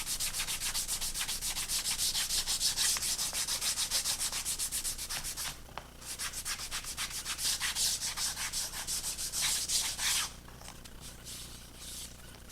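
A sanding block rubs along the leading edge of a scale model airplane wing, a fast rhythmic scratchy rasp of many quick back-and-forth strokes, close and steady with brief pauses.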